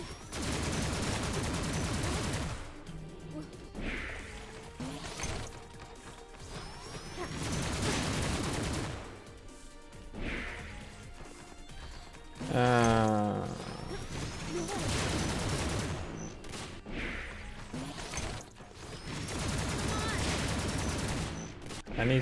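Gunfire in a homemade video game level comes in repeated loud volleys of rapid shots, separated by short quieter gaps.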